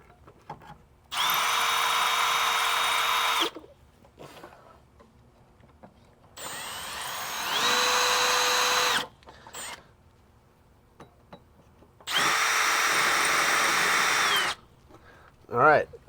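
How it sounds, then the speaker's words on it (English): A power drill whirs in three sustained bursts of a couple of seconds each, drilling holes to install a 1967–72 Chevrolet C10 kick panel, close and steady, with quiet pauses between. "finish drilling the rest of our holes."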